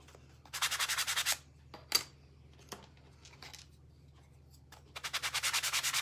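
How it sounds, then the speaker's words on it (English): Laser-cut maple wood pieces are sanded smooth by hand in quick rhythmic back-and-forth strokes, with a burst at the start, a few scattered scrapes and rubs, and another steady run at the end, close and fairly quiet. "So just a quick little sand on each piece to get them smooth."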